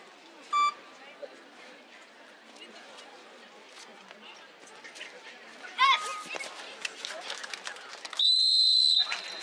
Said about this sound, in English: Wait for the whistle.